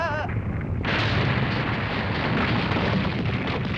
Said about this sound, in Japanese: ああ、また地震だ。